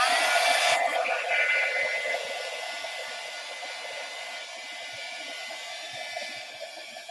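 A hair dryer blows steadily close by, drying black paint on a craft project; loud at first, then dropping slightly and running on as a continuous whir with no talk.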